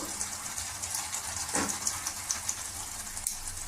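Fresh cream is poured into a pan of dhaba-style palak paneer, a soft continuous liquid gush with a brief surge in the middle, heard close and alone.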